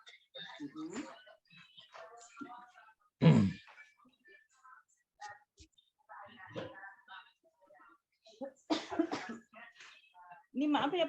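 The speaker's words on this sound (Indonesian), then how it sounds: "Ini maaf ya Pak, batuk." A woman coughs several times in short bursts during a quiet indoor 2022 PPG PAI (Islamic religious education teacher certification) comprehensive exam session, with talk around the coughs.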